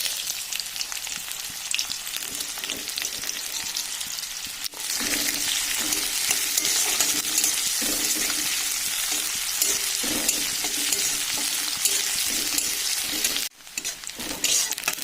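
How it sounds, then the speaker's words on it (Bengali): Onions fry in hot oil in a kadai with cumin and dry red chilli, a loud, close, continuous sizzle with stirring scrapes and two brief breaks, and no talking. "পেঁয়াজটা ভালো মতন ভাজা হয়ে গেছে।"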